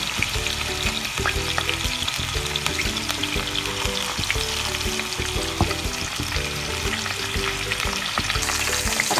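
Pork chops fry in a pan with a loud, dense, continuous sizzle and crackle, steady and close throughout.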